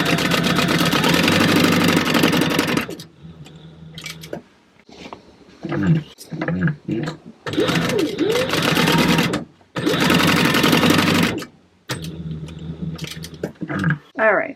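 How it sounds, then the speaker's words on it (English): A sewing machine runs in loud bursts, stopping and starting, while sewing a quarter-inch seam with backstitching on a book bag. Quieter handling sounds fill the gaps. "Sew at a 1/4 of an inch seam allowance right here."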